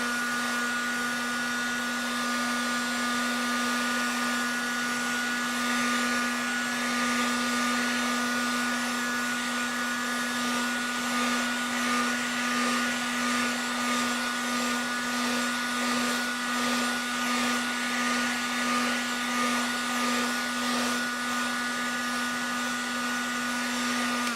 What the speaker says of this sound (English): I'm just giving it a quick dry again